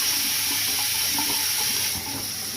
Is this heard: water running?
yes